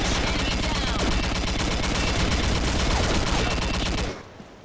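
Dense, continuous video game gunfire rattles loudly for about four seconds before cutting off abruptly into quiet.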